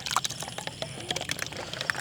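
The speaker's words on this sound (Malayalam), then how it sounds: "നമ്മളുടെ കുപ്പി നിറയ്ക്കൽ നടന്നുകൊണ്ടേ ഇരിക്കുകയാണേ." Thick homemade tomato sauce is poured into bottles, a brief, faint, wet gurgling and splattering of liquid close by.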